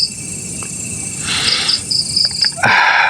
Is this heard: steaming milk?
no